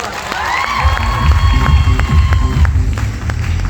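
An audience at a stage event claps and cheers loudly, dense continuous applause with shouts and whistles rising over it, close and sustained throughout.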